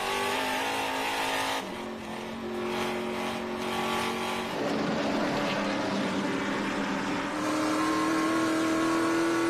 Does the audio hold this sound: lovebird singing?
no